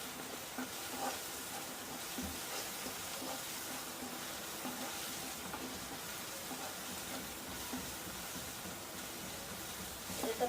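Onion and ingredients for kanda poha sauté in a pan, a steady faint sizzle and frying hiss running throughout with no talking.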